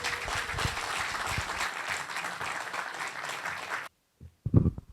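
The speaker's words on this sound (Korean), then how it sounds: "큰 박수로 맞이해 주시기 바랍니다" Sustained audience applause fills a lecture hall to welcome a speaker for a talk in Busan, then cuts off abruptly into near silence and a brief low thump.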